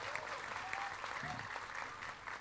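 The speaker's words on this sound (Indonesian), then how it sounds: "Tepuk tangan untuk beliau." An indoor audience at a National Santri Day 2022 religious gathering in Indonesia claps steadily throughout, a dense, even patter of many hands heard fairly faintly at a distance.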